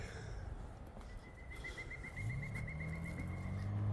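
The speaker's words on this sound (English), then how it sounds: "Nice call of a bird you can hear in the background." A bird calls in the background along a nature walk with a faint, thin run of rapid repeated notes lasting a couple of seconds over a low outdoor rumble.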